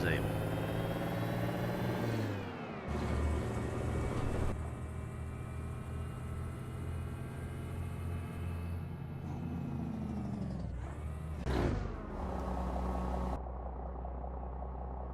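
Truck engine idling and revving in American Truck Simulator, a steady low rumble that shifts in pitch and load, with someone talking over it.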